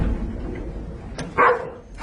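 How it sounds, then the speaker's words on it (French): A dog gives a single short bark at close range, loud over a low background rumble, set in an action film scene. "Pourquoi tu aboies?"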